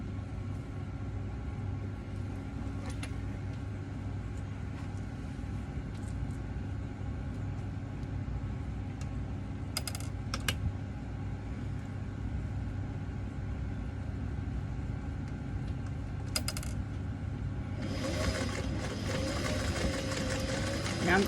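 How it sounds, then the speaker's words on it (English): A sewing machine stitching over existing top stitching on the edging of an apron made from overalls, with a steady motor hum and a few light clicks, picking up into a faster whir near the end. "I am going to attempt to sew right over this stitching on this top stitch"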